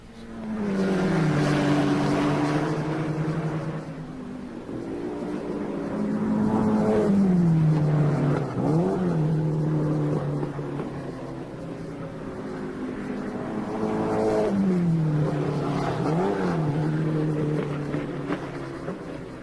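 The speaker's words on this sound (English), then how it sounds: "neither Connaught nor Van Wall nor BRM, with their new 4-cylinder cars, with cylinder bore enormously greater than the piston stroke, and heard here at Silverstone, with Hawthorne and Brooks at their wheels," 1950s Formula One racing cars with 4-cylinder engines race at Silverstone. Repeated loud, droning passes swell and fade, with engine pitch rising and then dropping as each car goes by.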